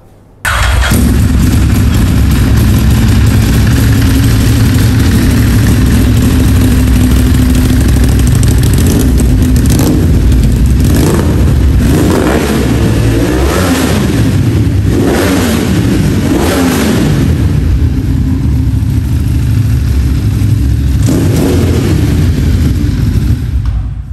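A 2014 Ducati Streetfighter 848 with a Termignoni exhaust fires up and idles loudly, then revs repeatedly in strong bursts, close and dominant throughout.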